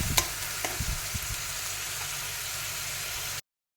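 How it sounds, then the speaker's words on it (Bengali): Ginger garlic paste being sautéed and stirred in a pan with onions for a magur fish curry, a steady sizzle close by with a few sharp scrapes of the spoon, then abruptly cut off. "দিয়ে দেবো আদা রসুনের পেস্ট 1 চামচ। দিয়ে ভালো করে কষিয়ে নেব।"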